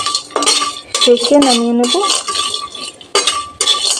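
A spatula scrapes and clatters steadily against a pan as whole spices roast over very low heat for a Nizami dum aloo, close metallic stirring under a person speaking.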